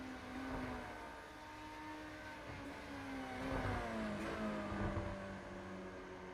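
Formula Renault 2.0 race car engine in iRacing at Suzuka, revving steadily with pitch sliding up and down through gear changes, a continuous moderate whine with no talk.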